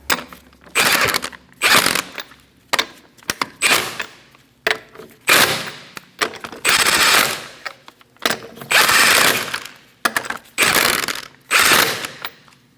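A ratchet wrench tightens the wheel lug nuts on a 2012-2020 Chevrolet Sonic in a star pattern: loud, close bursts of rapid clicking, about a dozen separate runs with short pauses between.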